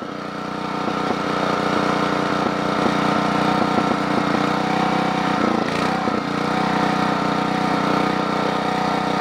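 A Generac model 8838-0 engine runs loudly and steadily with its choke opened slightly, giving a close, continuous mechanical drone with a brief stumble in the middle.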